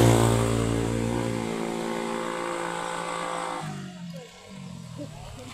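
A motorcycle engine runs steadily during an outdoor wedding pre-shoot, a loud, continuous droning hum that holds for several seconds before dropping away near the end.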